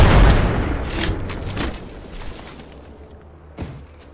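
A frag grenade detonates in the battle royale video game Apex Legends, a loud boom at the start that fades out over several seconds, with a second, smaller burst near the end.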